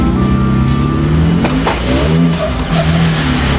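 A supercharged off-road vehicle revs hard on a rocky Moab trail, its engine note climbing and falling in loud, close bursts with harmonic sweeps throughout.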